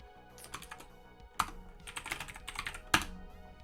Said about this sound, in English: I absolutely forgot what I was typing then.